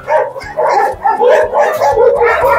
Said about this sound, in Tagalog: Ito na, pinakamalaking aso.